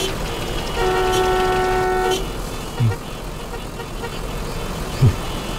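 One long, loud car horn blares in a traffic jam, followed by quieter road and traffic noise and a couple of soft thumps.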